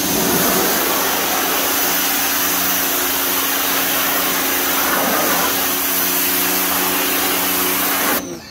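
A Greenworks 1600 psi electric pressure washer blasts grime off a pool surface with a loud, continuous hissing spray over a steady motor hum, close up, cutting off abruptly at the end.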